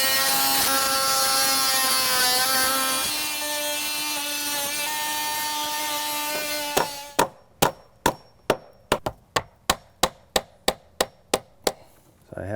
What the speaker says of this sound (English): I'll cut this plywood back so that when we put a new piece in here